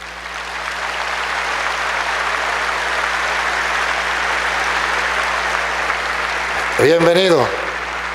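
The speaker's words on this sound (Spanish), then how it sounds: "Aplausos para el hermano." Audience applause greets a guest at a lively Christian debate event, a sustained, fairly loud wash of clapping that fills most of the clip before a voice speaks a word of welcome over its tail.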